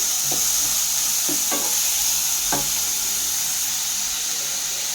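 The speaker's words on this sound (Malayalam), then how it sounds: "ഇനി ഇത് ജസ്റ്റ് ഒന്ന് ഇളക്കിയെടുക്കാം" Crushed shallots fry in a pan while being stirred, giving a steady bright sizzle with a few soft scraping strokes of the spoon, close and even throughout, with no voices.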